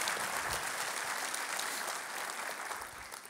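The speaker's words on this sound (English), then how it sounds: "Let's give them a round of applause for their work." Audience applause for city councilmen at a Long Beach development update, a dense, even round of clapping from a crowd in a hall that tapers slightly at the end.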